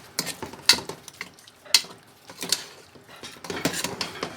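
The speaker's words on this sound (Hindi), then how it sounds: "अब हम चिकन भी मिला देंगे। इसको मिक्स कर लेंगे मसाले में।" Chicken being stirred into oily masala gravy for painda (sobat), a traditional D.I. Khan/Bannu dish, in a pot: a spoon clinks and scrapes against metal in a few sharp knocks amid soft frying sizzle, with no talk.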